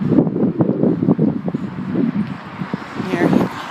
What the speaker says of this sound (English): Here's the wind in my face